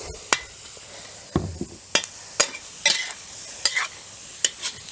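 A wok of sweet potato leaves sizzles steadily while a metal spatula scrapes and clanks against it in a series of sharp, irregular strikes.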